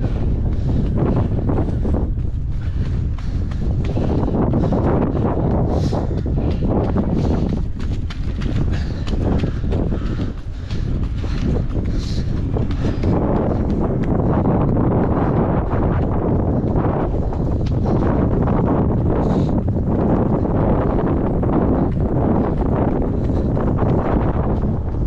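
Strong headwind buffets the microphone of a cyclist riding downhill, a loud continuous low roar and rumble with gusty surges that fill the whole stretch, with no talking.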